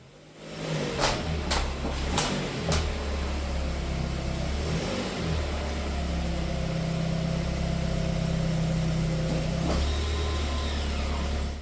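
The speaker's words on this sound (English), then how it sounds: "giving enough gas to drive up the incline and knowing when to completely stop" A 2020 Toyota Corolla's engine rises into a few brief revs as the car climbs onto ramps, then holds a steady, close mid-pitched drone, loud and without talking.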